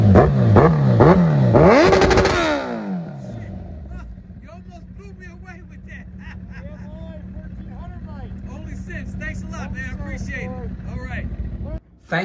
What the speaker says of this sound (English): Give a little exhaust for you.